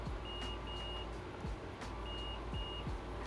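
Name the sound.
multimeter continuity test beeps while checking laptop board for shorts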